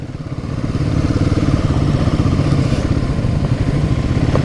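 A Royal Enfield big single-cylinder motorcycle engine thumps steadily and loudly while riding, a low, even pulse holding throughout with no talk.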